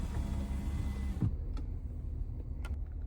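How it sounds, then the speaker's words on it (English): The power sliding center console of a 2024 GMC Yukon Denali Ultimate glides with a brief electric motor whir that stops abruptly, followed by a few faint clicks inside the quiet cabin. "This power sliding center console is amazing"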